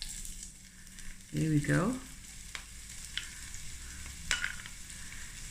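Half a portion of green onions dropped into a hot pan for a mussel stir-fry, giving a loud burst of sizzling that settles into a steady fry with light stirring clatter, followed by a brief spoken remark.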